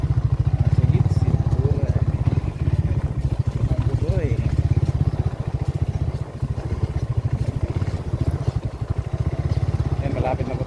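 A small motorcycle engine runs steadily and loud throughout, with a rough clattering idle and a faint intermittent squeak, while people talk over it.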